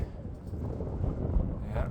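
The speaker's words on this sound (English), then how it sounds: "It's very fucking windy up here" Wind buffets the microphone at a high hiking lookout point on the Escudilla trail, a steady low rumble of gusts throughout with no clear speech.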